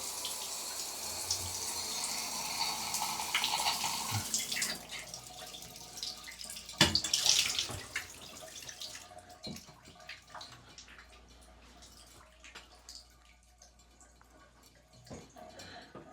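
Hotel bathroom shower head running with a steady hiss of flowing water that fades down after a few seconds, leaving faint drips and quiet room tone.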